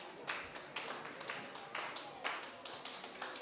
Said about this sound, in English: we're going to clap 5 times one more time